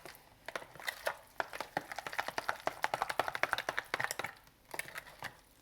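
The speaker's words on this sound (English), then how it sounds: "So let's mix this all together." Spoon mixing manicotti filling with sugar and raw eggs in a bowl, producing quick irregular tapping and scraping clicks against the bowl, close and fairly quiet, with a short pause near the end.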